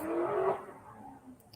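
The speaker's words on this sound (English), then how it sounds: "You can hear the cars" A car passes outside at night, a swelling engine and tire rush that peaks early and fades away, heard alone at moderate distance.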